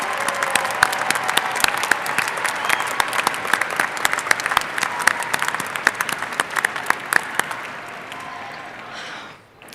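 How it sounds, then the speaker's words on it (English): An audience applauds graduates at a commencement ceremony, a long, loud, sustained burst of many hands clapping with sharp individual claps standing out, fading away at the end. "Join me in applauding all these graduates and alumni."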